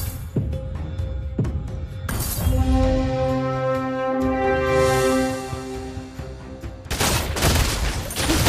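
Gunner heroes open fire in the Mobile Legends Magic Chess auto-battler, loud and close: rapid clicking volleys, then a sustained tonal burst of effects, ending in another dense crackling salvo.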